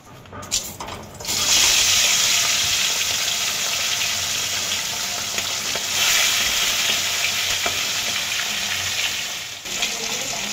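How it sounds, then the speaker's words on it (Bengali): Tilapia fish frying in oil in a pan, a loud steady close sizzle that holds continuously for about ten seconds after a brief quiet start. "মাছটা আমাদের ভাজা হয়ে গেছে"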